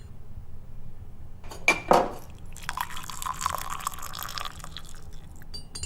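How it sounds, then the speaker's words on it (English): Coffee pours into a cup, a bright liquid splash and trickle after a clink of crockery, followed by continued pouring and dripping, close and moderately quiet. "That's the sound of coffee being poured."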